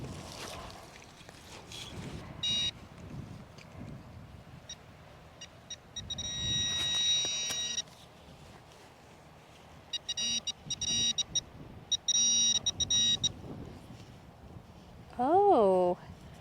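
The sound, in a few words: metal detector pinpointer beeping on a target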